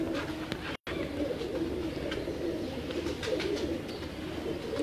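Pigeons of the Almari and Kamgar breeds cooing in a loft, soft low repeated coos from nearby birds over a steady background hum, with faint chirps scattered through and one brief dropout.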